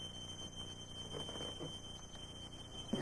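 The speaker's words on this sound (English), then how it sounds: "The alarm sounds outside the children's room for more than a minute." A smoke alarm in the hallway outside a children's room sounds a steady, high, continuous tone, faint and somewhat distant, with no voices.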